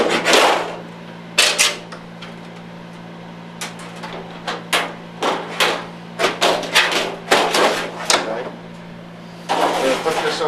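A piece of tin ceiling filler is cut, with a series of sharp metallic snips and crunches in irregular bursts, close and loud over a low background hum.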